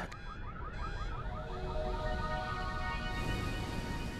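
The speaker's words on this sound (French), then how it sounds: "on a entendu ce qui semblait être des millions d'alarmes de voitures sur le parking" Car alarms in a parking lot wail and whoop together in overlapping cycling tones, a dense chorus of several alarms sounding continuously from a moderate distance.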